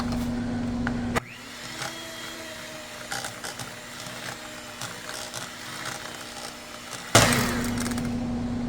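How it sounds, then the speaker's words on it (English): An electric mixer blends cream cheese, butter and vanilla extract, starting with a loud steady whine, dropping to a quieter churning hum with occasional clicks, then surging loud again near the end. "Okay, we're going to blend this"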